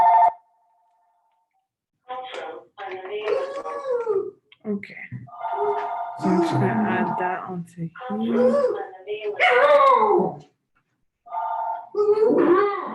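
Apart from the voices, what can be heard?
dog barking and howling in the background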